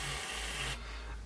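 A paint sprayer at low pressure gives a short airy hiss while misting a Tamiya 1/32 F-16CJ model part, steady for under a second before cutting off and leaving faint background noise.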